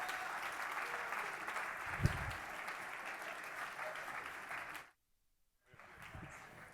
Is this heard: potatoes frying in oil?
no